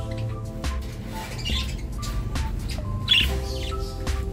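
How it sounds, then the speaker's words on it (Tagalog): Small birds chirp and tweet in short, bright bursts close by, over a low steady hum with faint background voices. "Ito ba ito mga ibon ni paring Mark eh"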